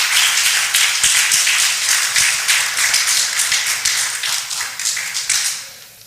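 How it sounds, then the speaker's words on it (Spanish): A church congregation gives loud, sustained applause, dense rapid clapping from many people that carries on steadily and then tapers off toward the end. "déle un fuerte aplauso a Jesús en esta hora"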